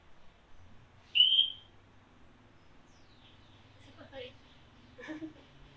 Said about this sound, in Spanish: escuchen cómo cantan ellos. Rana de cristal altondina de bucle